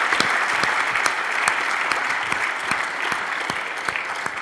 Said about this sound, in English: A round of